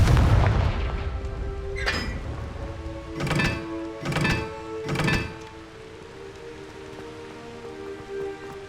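A Confringo fire spell from the game Hogwarts Legacy blasts four times, with heavy booming bursts spaced about a second apart over a low, steady ambient rumble. No one speaks.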